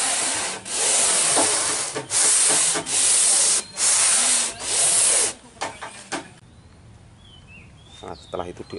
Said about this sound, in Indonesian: ini diamplas-amplas dulu biar halus